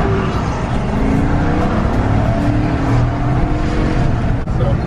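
A 2019 Chevrolet Silverado RST pulls away in sport mode, its engine and road noise a loud, steady drone heard from inside the cab, with no talking.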